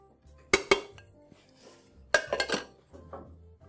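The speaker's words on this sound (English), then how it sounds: "Now you can see it's mixing the butter." Butter and sugar creamed together in a metal bowl for an Austrian Linzer tart, with two sharp clanks of utensil on bowl early on, then a burst of clattering scrapes and knocks, over a low steady mixer hum.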